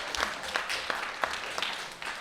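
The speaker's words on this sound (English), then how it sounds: "Round of applause." A school crowd at a Taskmaster-style competition gives a fairly quiet round of applause, scattered clapping with a few sharper individual claps standing out, fading slightly toward the end.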